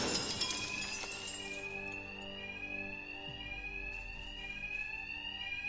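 Steady electronic alarm ringing inside a bank at night in the video game Batman: Arkham Knight, a continuous high tone with sweeping harmonics, sounding alone for several seconds.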